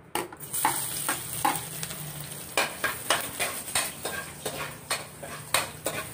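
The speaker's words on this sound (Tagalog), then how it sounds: "gigisa na po natin ang bawang" Garlic sautéed in a pan while making chicken afritada, with a steady sizzle under repeated scraping and stirring strokes of a utensil against the pan.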